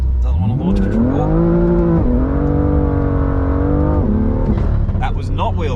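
BMW M2 on Advan A052 tyres launching in a kickdown burnout: loud engine revs climb, shift and climb again with brief tyre scrabble, close and continuous throughout.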